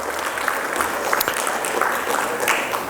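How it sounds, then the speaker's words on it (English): Round of applause from an audience at a morning panel event, a steady, fairly loud patter of many hands clapping with brief sharper claps standing out. "give him a round of applause"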